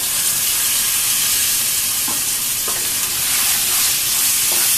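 Tomatoes and chili paste fry in a pan for hotel-style egg masala, a loud, continuous sizzle with faint stirring scrapes, close and steady.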